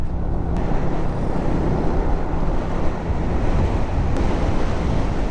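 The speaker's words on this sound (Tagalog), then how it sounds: "Lakas ng hangin." Strong wind buffeting outdoors on a rainy road in Sta. Maria, Laguna, a steady loud roar of gusts across the microphone with no let-up and no talk.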